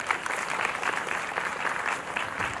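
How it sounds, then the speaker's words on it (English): A ceremony audience at the valediction of a fashion-and-AI conference gives a steady, dense round of applause. The even clapping holds at one level for the whole stretch, with no talk. "Please give them a warm round of applause."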